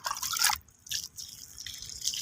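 Water is poured out in bursts outdoors in the hot sun, making splashing, dripping and trickling sounds that stop and start several times.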